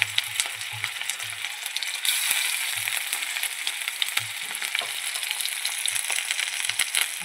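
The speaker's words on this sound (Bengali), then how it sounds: "এবার আদা রসুন পেস্টটা আমি দিয়ে দিলাম" Ginger-garlic paste hits hot oil in a frying pan for a spicy chela fish curry, making a loud, continuous close hiss with occasional small crackles and clicks, no voices.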